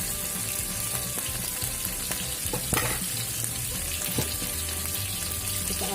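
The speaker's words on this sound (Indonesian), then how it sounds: "Kita aduk dulu." Steady, hissing sizzle of spice paste frying in hot oil, with occasional scrapes and clinks of stirring.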